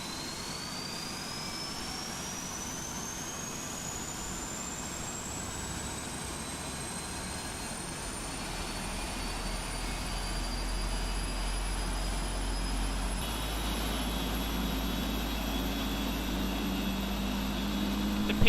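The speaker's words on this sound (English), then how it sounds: "we will start engines number 4 and 3" Jet engines on a PMDG 747-400 in a flight simulator spool up as engines 4 and 3 start, a steady roar with a whine rising slowly in pitch and building gradually louder over nearly twenty seconds.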